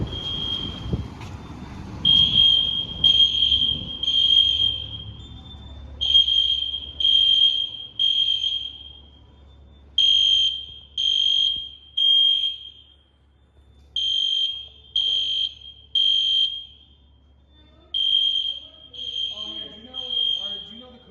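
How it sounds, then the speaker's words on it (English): A shrill fire alarm at a bank sounds in repeated bursts of beeps with short pauses between groups, loud and nearby, with some faint talk and movement early on. "There's a fire alarm."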